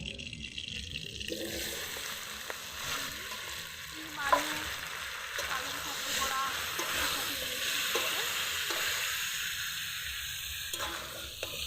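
Rice fries in a pan for khichuri with a steady, moderate sizzle, broken by occasional utensil clicks and a single sharper knock.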